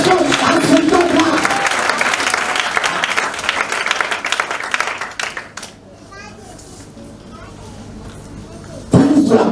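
A church congregation bursts into loud, sustained applause and cheering with children's voices mixed in during a fiery French-language worship service, the clapping dropping away after about five seconds to quieter murmuring before a final swell.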